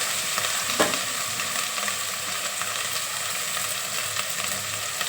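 Mutton bones fry with mint and coriander in a pan, a continuous close, loud sizzle with faint stirring clinks and no voices.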